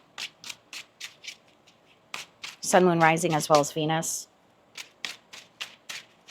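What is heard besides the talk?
tarot cards being shuffled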